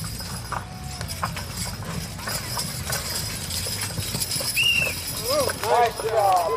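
A team of horses in a horse and pony pull at a county 4-H fair, hooves clip-clopping steadily on the ground amid crowd noise, with people talking and cheering over it.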